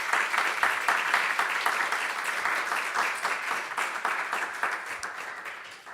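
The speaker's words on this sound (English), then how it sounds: "I think we can give our participants a round of applause" Audience at a panel event on Ukraine's state property and governance giving a round of applause, many hands clapping steadily from start to finish and slowly tapering off toward the end.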